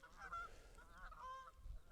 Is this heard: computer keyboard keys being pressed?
no